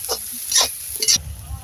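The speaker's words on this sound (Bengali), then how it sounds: "পেঁয়াজটা লাল লাল করে ভেজে নেব।" Onions fry in a pan for chicken biryani, heard as three quick stirring scrapes over a faint, steady sizzle, close by.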